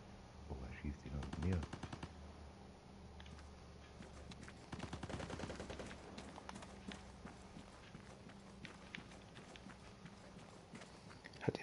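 Rapid bursts of gunfire ring out in the video game Vigor, clustered volleys and single shots scattered over a quiet background with faint voices.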